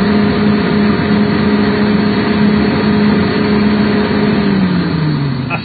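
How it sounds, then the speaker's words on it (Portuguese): A John Deere 903K feller buncher's diesel engine revs and holds a steady, loud, close drone for several seconds, its pitch sagging slightly as it winds down near the end, with no talking. "acelera a máquina."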